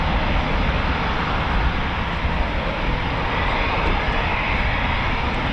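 A Eurofighter Typhoon FGR4 fighter jet at RAF Coningsby gives a loud, steady broadband roar that holds for the whole stretch with no break.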